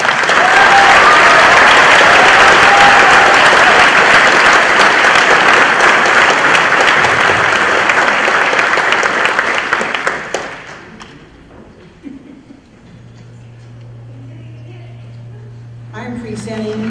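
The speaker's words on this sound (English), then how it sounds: "Let's give them another round of applause." Sustained, loud applause from a graduation ceremony audience, tapering off after about ten seconds into quiet room sound with a brief voice.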